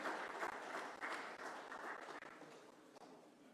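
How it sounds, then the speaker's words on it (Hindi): A crowd at a BJP headquarters Ambedkar tribute event gives loud applause to welcome the chief guest. A steady wash of clapping comes through faint and distant for the whole moment. "जोरदार तालियों के कड़कड़ ध्वनि के साथ में।"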